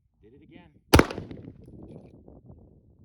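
A single sharp shot from a Staccato C2 pistol cracks out loud and close, followed by a brief fading echo amid faint background voices.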